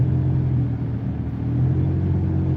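A car cruising and slowing down in traffic, its steady low engine rumble and road noise filling the cabin at an even level, with no voices.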